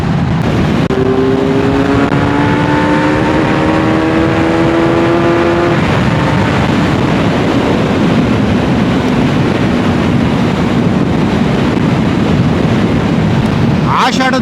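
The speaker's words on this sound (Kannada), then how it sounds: "ಗಾಳಿ ಫುಲ್ಲು ಕ್ರಾಸ್ ವಿಂಡ್ಸು ಅತ್ತ ಇತ್ತ ಎಳಿತೈತೆ ಪ್ಲಸ್ ವಿಂಡ್ ಬ್ಲಾಸ್ಟ್ ಬೇರೆ" Loud, constant wind roar and buffeting from crosswinds and wind blast while riding a Kawasaki Z900 motorcycle on a monsoon highway ride, with the engine note climbing through gears early on beneath the rushing air.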